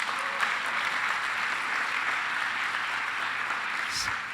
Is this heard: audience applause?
yes